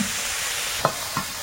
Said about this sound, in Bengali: এই পাশে একটা প্যান বসিয়ে হালকা করে একটু বেসন ভেজে নিয়ে তার মধ্যে মাংসের এই মিশ্রণটা দিয়েছি